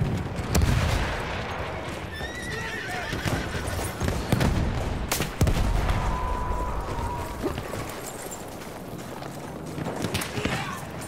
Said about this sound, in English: Enemy artillery. There's somebody on the artillery.